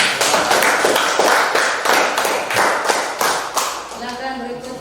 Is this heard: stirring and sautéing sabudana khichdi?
no